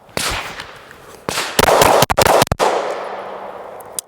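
A ported Glock 19 pistol fires a single loud, close shot, then a rapid cluster of sharp cracks a second later, each blast trailing into a reverberant decay.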